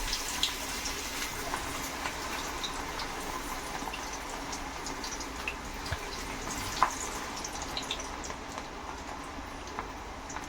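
Ragi flour and small-onion pakoda frying in hot oil, a steady dense crackling sizzle that runs continuously at moderate level with a few brief pops, no voices.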